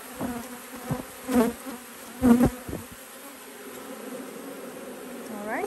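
Honey bees buzz around hive frames during honey extraction, a steady close droning hum with louder swells as individual bees pass near, no speech.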